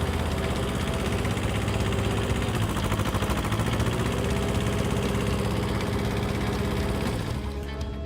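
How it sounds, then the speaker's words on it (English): The engine of a Traccess 230 aerial work platform runs at a steady idle, a constant low mechanical drone that fades slightly near the end. "So now I will start the engine again and lower the switch to show you."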